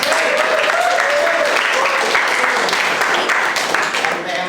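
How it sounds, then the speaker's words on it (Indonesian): Students in a university classroom applaud in a dense, steady burst of clapping lasting a few seconds, with voices mixed in. "Kasih tepuk tangan."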